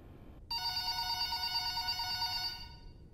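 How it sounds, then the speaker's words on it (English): An old telephone bell rings on a Five Nights at Freddy's VHS tape, starting abruptly after a brief silence and sounding as one continuous bright metallic ring that fades at the end. "Harold, go pick up the phone"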